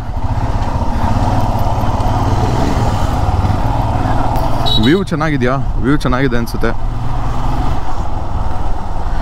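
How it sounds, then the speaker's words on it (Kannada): A BS6 motorcycle running without its exhaust fitted gives a steady, loud engine drone throughout, with someone talking briefly over it midway. "ಇವಾಗ ಬರೀ ಇಂಜಿನ್ ಸೌಂಡೇ ಜಾಸ್ತಿ ಕೇಳಿಸ್ತಾ ಇರುತ್ತೆ"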